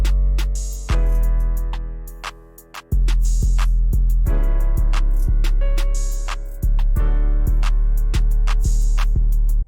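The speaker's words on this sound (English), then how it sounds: "Then I added this 808 sound." Simple 808 bass pattern in an FL Studio trap beat: deep sustained 808 notes hit in a steady rhythm under a bright melody with crisp hi-hats, with brief dropouts between phrases, loud and close with no talking.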